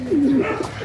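Trained racing pigeons, one named Naruto, give soft low cooing calls close by in a short steady burst.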